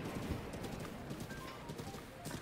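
Horse hooves clip-clopping in The Legend of Zelda: Breath of the Wild, a quiet, steady rhythmic patter under game background sound, with no talking.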